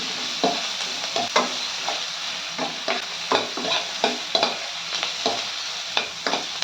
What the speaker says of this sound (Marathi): कांदा छान तांबूस करायचा आहे